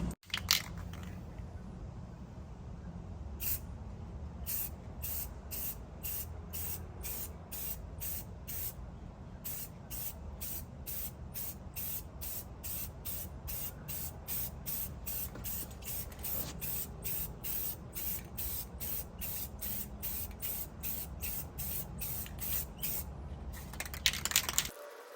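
Car wheels are spray painted with a can, producing a long run of short, sharp hissing bursts in a steady rhythm, each spray close and loud, with low background hum and no talk.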